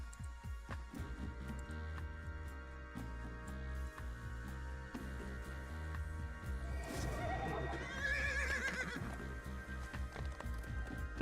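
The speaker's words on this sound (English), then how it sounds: "Nice green horsey going on here." A horse in a video game neighs and whinnies over game music, with a rising, shrill burst of neighing late in the clip.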